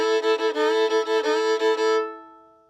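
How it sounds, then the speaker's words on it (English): A violin plays fiddle-style double stops, two strings sounding together in a quick rhythmic pattern of short bowed strokes, then a held final chord that rings and fades. Solo and close, with no voices. "A common fiddle example that you'll hear with double stops sounds like this."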